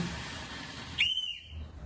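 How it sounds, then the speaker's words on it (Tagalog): An emergency hiking whistle gives one brief, shrill blast over steady background noise. "Kapag ikaw ay nasa oras ng emergency, kailangan natin ng pito."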